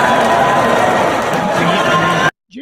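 A stadium crowd keeps roaring and chattering through a national anthem, a dense, loud, sustained wall of voices that cuts off abruptly near the end.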